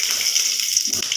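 Water pours into a cooking pan with ghee, bay leaf and jaggery, a brief steady splashing gush, close and fairly bright.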